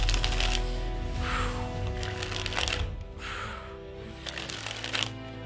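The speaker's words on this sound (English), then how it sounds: "So glad I used these cards. They're so much easier to spring with." Thin playing cards of light card stock being sprung from one hand to the other in a cardistry flourish, giving a loud, rapid fluttering rattle of snapping cards that comes in repeated bursts over several seconds.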